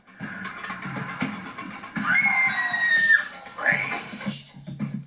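People scream on a haunted Ghost Ship Halloween attraction, with shrill cries rising over a noisy crowd and background rumble, close and loud in the middle of the passage.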